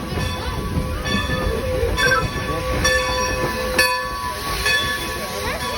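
Strasburg Railroad's Peakway Valley train, number 100, rumbles and clanks nearby with sharp metallic squeals and bursts of steam over a steady mechanical roar, and some voices in the background.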